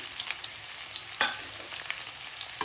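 Mixed vegetables frying in a pan with capsicum just added, a steady close sizzle broken by a few sharp stirring clacks and scrapes, with no voices.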